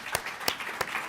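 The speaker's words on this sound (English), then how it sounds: "So round of applause" Audience applause at an anniversary summit crackles briefly, a burst of scattered clapping with a few sharper claps standing out, heard only for about a second.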